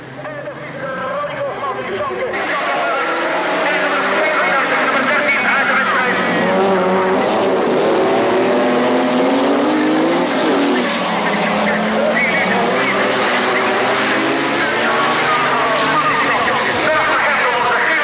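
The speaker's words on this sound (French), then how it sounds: "il est fin prêt sur la grille pour le départ de la finale B en Division 2" 1986 European Rallycross Championship Division 2 race cars roar off the grid at the start of a B final, engines revving hard and tires squealing in a loud, sustained blast with a commentator speaking over it.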